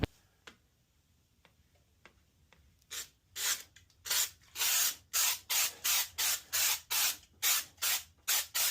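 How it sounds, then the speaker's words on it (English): Spray paint hissing onto the ears of a Stitch figure: a few faint ticks, then a series of about a dozen short, loud bursts in steady rhythm, close by. "Spray the edge of his ears and shape them."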